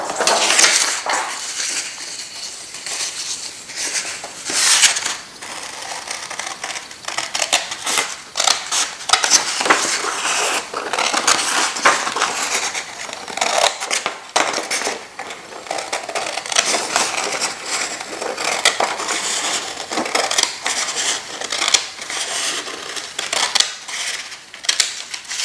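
A cardboard KitKat box being cut by hand for a pen stand, with dense, close crunching and scraping that goes on for the whole stretch, broken by small clicks and knocks.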